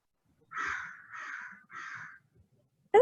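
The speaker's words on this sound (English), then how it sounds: "someone has a bird in the background." A crow caws three times in a steady, evenly spaced series, clear and moderately loud against a quiet background, followed by a brief sharp noise at the very end.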